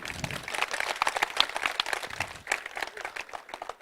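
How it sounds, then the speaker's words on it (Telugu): Dense applause from an audience at a public health talk on millets, a steady crackle of many hands clapping close by for nearly four seconds, with a few stray voices mixed into the crowd. "నిజంగా మీరు గట్టిగా చప్పట్లు కొట్టాల్సిన విషయం ఇది"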